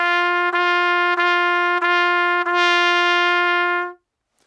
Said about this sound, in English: that's basically one long note broken up by the tongue into 5 notes